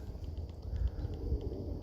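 A donkey moves about on a farm, hooves clopping softly and irregularly against a low rumbling background, faint and somewhat distant.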